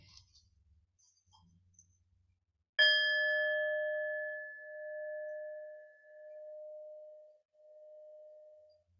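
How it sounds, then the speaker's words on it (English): A meditation bell struck once, giving a clear ringing tone that sustains and slowly fades with a gentle pulsing for several seconds, heard alone in a quiet room after faint soft sounds. "receive the tone of this bell, just allow yourself to start to breathe more deeply"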